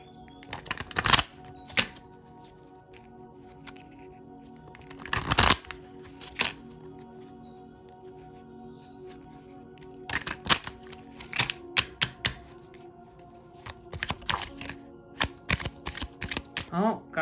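Tarot and oracle cards are shuffled close to the microphone in loud crisp riffles and rapid flicks, some bursts long and heavy, others short clusters, with quieter stretches of soft handling between.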